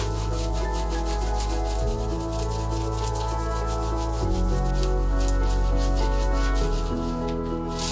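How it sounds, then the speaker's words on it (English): Cloth rubbing silver foil onto a plastered furniture piece with continuous, even scrubbing strokes, heard over steady background music. "you just carefully lay over your silver foil and you rub with a cloth."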